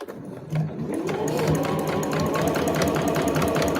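A household sewing machine stitches a convenience-store eco bag, a steady close mechanical whirr after a brief start, running continuously without talk.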